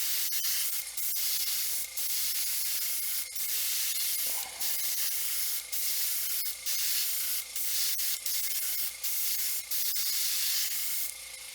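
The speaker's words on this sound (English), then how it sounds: "I'm going to show you how I do that with the airbrush" An airbrush lays down a thin, semi-transparent coat of paint in short, bright hissing bursts separated by brief pauses, close to the microphone and with no talking.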